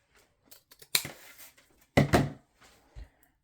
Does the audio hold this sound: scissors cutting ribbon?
yes